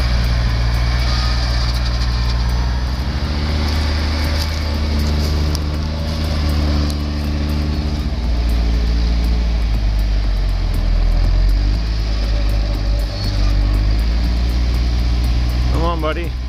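A Case IH STX 450 tractor stuck in mud runs its engine with a deep, steady low rumble that holds near and loud throughout, slight surges in load, and a brief voice near the end.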